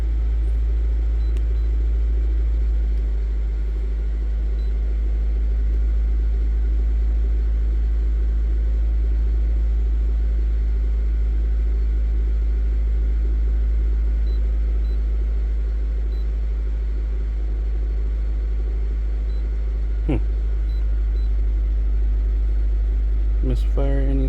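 A Honda CR-V engine idles after a cold start with a misfire, a steady low rumble running throughout at close range, with a couple of brief clicks near the end.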